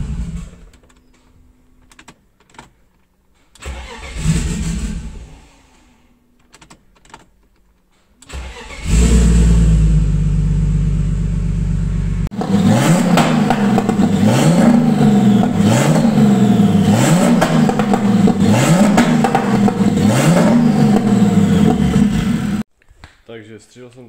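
A turbocharged BMW E46 engine cranks and catches in short bursts, then starts and runs loudly, with repeated rising and falling revs over a steady idle before cutting off abruptly.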